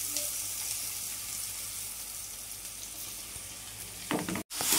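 Grated raw mango fries lightly in a pan with turmeric and salt, a steady soft sizzle with a faint stirring scrape near the end.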